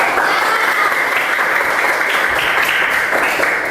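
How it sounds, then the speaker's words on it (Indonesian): A classroom of students applauding together, a steady dense wash of clapping from many hands that holds evenly for nearly four seconds. "Kita kasih aplaus untuk diri kita semua."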